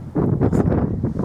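Strong wind buffets the microphone on top of Pendle Hill, a steady broadband roar with gusty swells across the whole moment and no voices.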